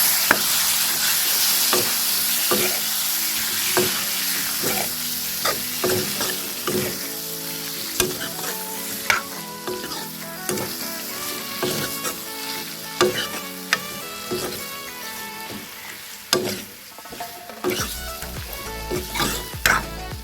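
Pork sizzling in a pan with tomato and spices, loud and close, with frequent scraping and clinking strokes from stirring over a steady frying hiss.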